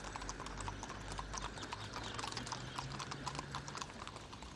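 Horses' hooves clip-clop steadily as riders in samurai armour head to a festival, a dense, even patter of hoofbeats at moderate distance with no talk.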